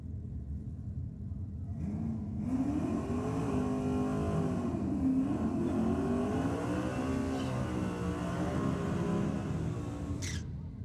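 Drag racing cars, an Ellis-powered BMW and a Holden XY Ute, rev hard on the start line at a Sydney drag strip during a Super Straight championship round, a loud sustained rumbling roar with rising and falling engine pitch.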